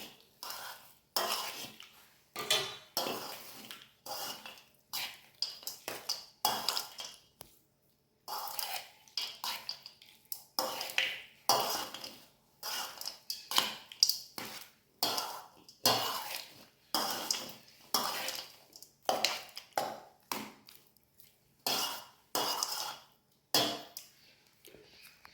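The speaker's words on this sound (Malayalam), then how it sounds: "ഇതെല്ലാം നന്നായിട്ട് മിക്സ് ചെയ്യാം" A spoon scrapes and clatters rapidly in a pot as tamarind rice for puli sadam is mixed, with dense, uneven metallic knocks and stirring strokes that continue steadily and close up with no talk.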